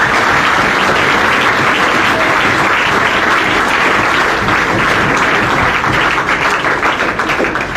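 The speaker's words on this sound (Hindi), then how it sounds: "तो एक बार इनके लिए जोरदार तालियां हो जाए" An audience bursts into sustained loud applause, dense clapping continuing steadily throughout without a break.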